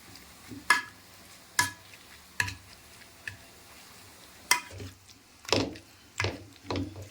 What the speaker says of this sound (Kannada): ಸೊ ಇದು ಇಲ್ಲಿ ತೊಗೊಂಡ್ಬಂದ್ಬಿಟ್ಟು ನೀಟಾಗಿ ಈ ಥರ ಸ್ಮ್ಯಾಶ್ ಮಾಡ್ಕೊಂಡ್ರಿ